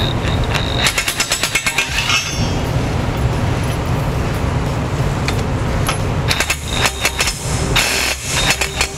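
A power impact tool rattles in long, harsh bursts while tightening trailer hitch bolts on a 2018 Ford Explorer, loud and close with short pauses between runs.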